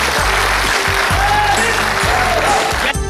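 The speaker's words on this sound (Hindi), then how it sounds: "आप जनरल वीके सिंह साहब को बुके और शॉल भेजकर जोरदार तालियों से स्वागत करें" An audience at a national conference gives a loud, sustained round of applause to welcome a guest, with rhythmic low thumping pulses running beneath the clapping.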